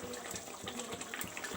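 Water is poured into an egg and green pea gravy in a cooking pan, a faint, soft trickling splash that runs steadily for a moment before a brief louder rush at the end.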